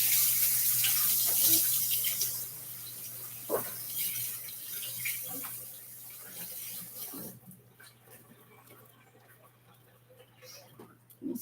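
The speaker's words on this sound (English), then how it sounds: "I'm going to rinse this out and see if we can't get all of it with that." Enviro cleaning cloth rinsed under a running kitchen tap: a steady, close splash of flowing water for several seconds that softens and thins out toward the end.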